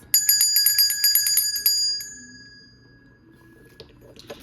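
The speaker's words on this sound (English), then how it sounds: "I'm hearing ring the bell, so that's what I'll do" A bell rings rapidly in a bright, close, repeated burst for about two seconds, then fades into quiet room tone.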